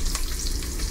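Great Value hickory smoked bacon frying in a pan, a steady close sizzle and crackle with no talking.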